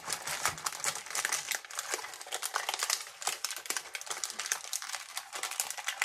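Crinkly plastic packaging of a Power Rangers X Street Fighter Lightning Collection Morphed Ken figure being handled to free its accessories, a steady stream of close, busy crackling and rustling with no voices.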